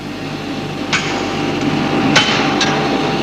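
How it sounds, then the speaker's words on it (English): Hammering white-hot overlapping metal ends together in forge welding: three or four sharp, ringing hammer strikes spaced irregularly over a few seconds, close and clear over a steady low background hum. "In this state, they join simply by being hammered together."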